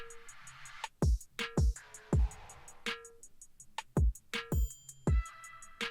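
A drum pattern plays alone: punchy kicks and sharp snare hits in a steady groove, with crisp hi-hats ticking between them.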